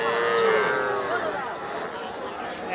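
A cow gives one long, drawn-out moo at a Jaipurhat cattle market selling local heifer calves, close and fairly loud, fading into a faint crowd murmur.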